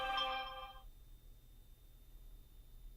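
A phone ringtone plays a short melodic chime at the start, then fades to quiet room noise for the rest.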